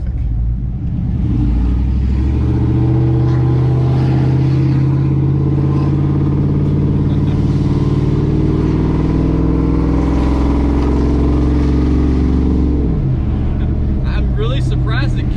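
A 5.3 V8 truck with long tube headers and straight pipe exhaust: a loud, raspy, growly low-RPM rumble that drones steadily, then drops off near the end.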